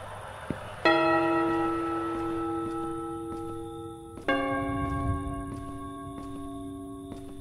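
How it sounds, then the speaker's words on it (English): Church bells ring in the horror video game Home Sweet Home: two loud, resonant tolls several seconds apart, each leaving a long ringing decay. "Could you stop with the bells?"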